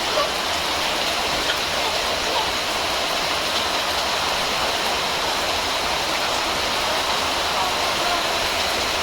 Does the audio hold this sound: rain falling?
yes